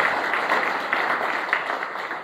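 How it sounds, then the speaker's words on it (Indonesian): Church congregation applauding during an Indonesian sermon, a dense, steady wash of clapping from many hands that fills the short stretch without a break. "Beri tepuk tangan yang terbaik buat Tuhan Yesus."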